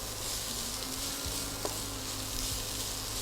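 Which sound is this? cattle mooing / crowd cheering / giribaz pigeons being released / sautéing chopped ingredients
sautéing chopped ingredients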